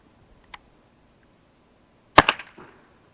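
.22 LR rifle fired at close range toward a chronograph: one sharp crack followed by quick short echoes, with a faint click before it and otherwise near silence.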